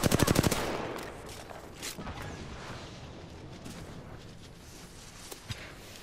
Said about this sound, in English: Oh shit, someone's shooting me.